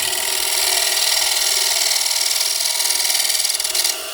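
A shear-scraping hand tool scrapes across wood in a steady, rapid rasping stroke lasting several seconds, loud and close, then cuts off abruptly.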